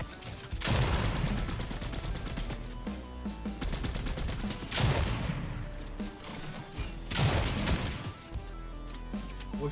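Gunfire in a building-and-shooting video game, loud bursts of rapid shots recurring across the stretch, mixed with crashing impacts and no voices.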